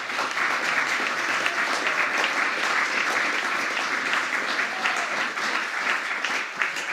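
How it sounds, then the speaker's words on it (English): An audience applauds at a Hanukkah menorah lighting event at the White House, a loud, dense, continuous clapping that holds steady throughout with no speech over it. "Yeah, I'll clap for them."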